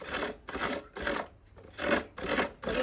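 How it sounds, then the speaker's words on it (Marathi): Half a coconut is grated by hand in a kitchen, making about six rhythmic rasping scrapes in a steady back-and-forth pattern, close and moderately loud. "खोबरा वाईस किसून घेऊया अर्धो नारळ घेतलाय"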